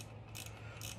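A ratchet wrench tightens a 10 mm bolt on the battery of a 2017 Victory Highball motorcycle, giving two quick, close ratcheting clicks over a steady low hum.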